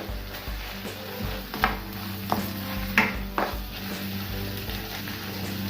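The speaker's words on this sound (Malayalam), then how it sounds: "oyster sauce, 3 table spoon tomato sauce ഇത് ചേർത്ത് മിക്സ് ചെയ്യുക" Oyster sauce and tomato sauce stirred into a pan for chicken kung pao, a steady low sizzle under repeated scraping and clinking of a utensil against the pan, close and moderately quiet.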